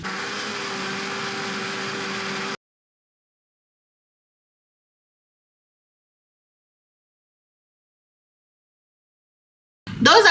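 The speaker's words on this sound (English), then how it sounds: "Then I will just go and put everything in the mixer" An electric mixer whirs as it blends tomatoes and other ingredients for yam porridge, a steady motor hum for a couple of seconds that stops abruptly, then silence and a short loud clatter at the end.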